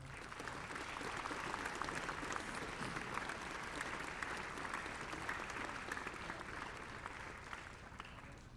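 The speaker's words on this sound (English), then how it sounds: "if you guys would help me give them a round of applause as well" A live audience in Broken Arrow applauds the coaches at a National Signing Day event, a steady, dense wash of clapping from a large crowd that holds even and fairly distant for the whole stretch.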